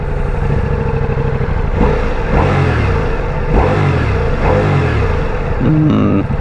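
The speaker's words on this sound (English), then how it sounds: "Exhaust sounds a little bit lacking." Revving exhaust from a Ducati Multistrada V4 Rally motorcycle, loud and close, with several rising throttle blips over a steady engine drone.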